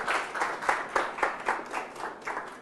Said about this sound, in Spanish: un gran aplauso a Javier